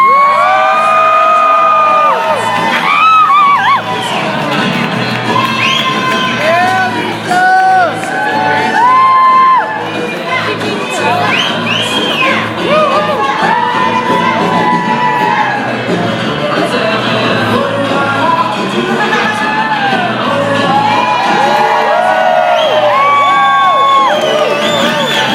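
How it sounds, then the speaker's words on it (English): Loud, sustained crowd cheering with whoops, shouts and high-pitched yells from an audience greeting a woman on stage, a dense excited roar lasting the whole stretch. "Please give a big round of applause for Lisa."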